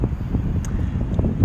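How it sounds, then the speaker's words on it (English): Wind blowing steadily outdoors, a low broadband rumble buffeting the microphone throughout, close and fairly loud, with no voice. "It's nice and windy though."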